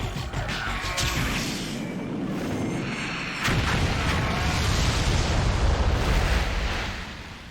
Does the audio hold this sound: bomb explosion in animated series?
yes